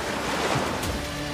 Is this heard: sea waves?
yes